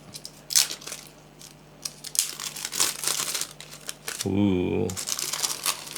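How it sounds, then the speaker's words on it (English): Crinkling and crackling of shrink wrap being peeled off a multicolor Mode Envoy keyboard weight, close and fairly quiet in short bursts, with a brief exclamation partway through. "Oh, this is shrink wrapped. I thought it was like a plastic peel, but it is shrink wrap."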